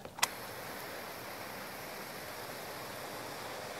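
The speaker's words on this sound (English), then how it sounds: "hose our panels off one more time" Garden hose water spraying over rooftop solar panels during a final rinse after scrubbing, a steady broadband hiss of running water that stays constant throughout, with a brief knock near the start and no talking.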